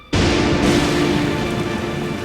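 A cartoon storm bursts in suddenly as a loud, dense wash of heavy rain with a low rumbling undertone, steady and close, lasting throughout with no talk.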